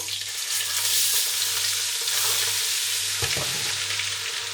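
Continuous sizzling and crackling of crushed garlic frying in hot oil in a pan, close and steady, with a low hum underneath and a brief clatter near the end.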